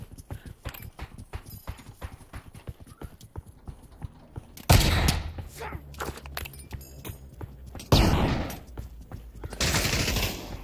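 Shooter game combat: a fast run of sharp clicking shots or steps gives way to several loud, booming gunfire bursts with ringing tails, close and punchy, separated by quieter stretches.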